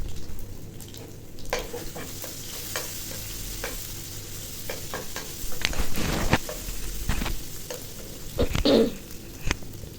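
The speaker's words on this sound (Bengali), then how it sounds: "এখন এটা আমি ভালো করে ভেজে নেব" Crushed ginger and garlic fry in hot oil with five-spice seeds and a dried chilli for a cabbage stir-fry, giving a close, steady sizzle broken by scraping stirs and a few louder spatters.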